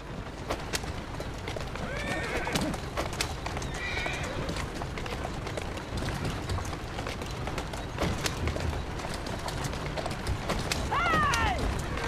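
Horses in the Assassin's Creed Syndicate video game clip-clop at a steady gallop, with whinnies breaking out several times, most clearly near the end. The sound stays busy throughout, and speech-like game sounds drift in around the hooves.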